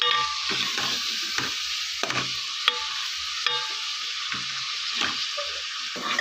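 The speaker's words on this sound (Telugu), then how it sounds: "అండ్ ఇవి బాగా ఫ్రై అవ్వాలి ఆనియన్స్." Onions frying in oil for potato curry, a steady sizzle under intermittent stirring scrapes and clicks of a spoon against the pan, close and without talking.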